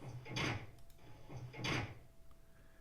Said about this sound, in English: And then we'll close the doors.